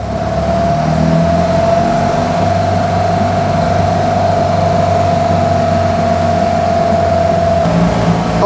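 The engine of a Fiat 500-based Impala Moke from Foulkes Developments runs at a steady, loud, close drone with a constant whine on top, heard from inside the car. No one speaks.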